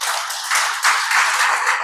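Congregation at a Spanish-language church sermon applauding in a dense, continuous wash of clapping, loud and steady throughout the short burst.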